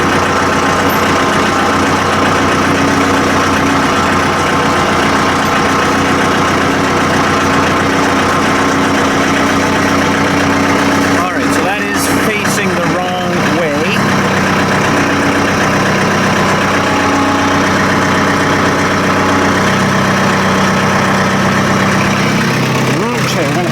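A heavy engine idles steadily in a workshop while a mill head is being hoisted back on, a constant low drone running throughout with brief clatter and knocks midway.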